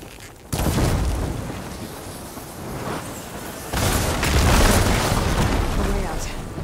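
Blaze barrels explode after being struck by fire ammo in the Horizon video game, a burst of loud booming blasts at about half a second, then a second heavy rumbling explosion at about four seconds, both sustained and dense.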